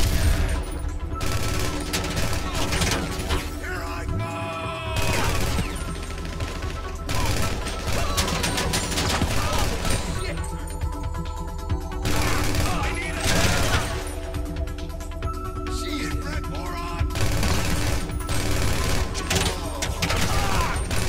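Rapid bursts of automatic gunfire and booming shots crackle through a GTA 5 Online shootout mission, loud and nearly continuous with brief pauses, while a voice talks over the action.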